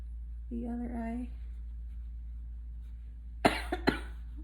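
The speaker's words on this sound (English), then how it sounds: "Coughing again" Someone coughs while doing makeup: a short vocal sound comes first, then two or three sharp, close coughs in quick succession near the end, in an otherwise quiet room.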